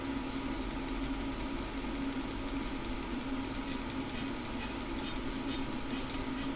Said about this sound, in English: do not start fucking hammering out there now